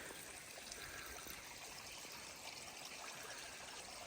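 Water trickles steadily down a mountain stream beside a hiking trail in a wilderness gorge, a faint, continuous hissing flow with no voices over it.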